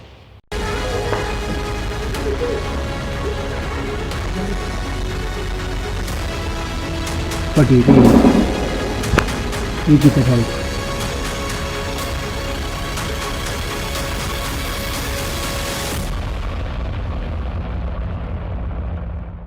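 Cross-border gunfire by Pakistani forces at Arnia during a night-long ceasefire violation: two heavy, booming bursts around the middle cut through a steady, droning background, with a voice present.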